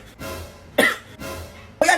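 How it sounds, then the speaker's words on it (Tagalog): Two short, sharp coughs about a second apart, close and fairly loud, with quiet rumbling background between them. "Umuubo lang naman ako."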